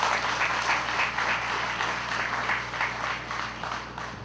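A crowd at an outdoor hospital construction foundation-pour ceremony claps steadily and densely for several seconds, a continuous wash of applause with no voices over it.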